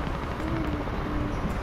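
A helicopter in the Call of Duty: Modern Warfare video game drones with a low rotor hum under a broad wash of game noise, moderately loud and continuous.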